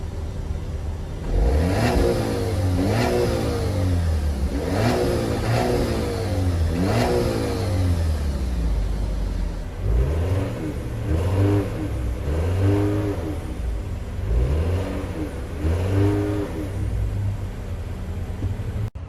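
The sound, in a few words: engine rev blips, Alfa Romeo Tonale and Dodge Hornet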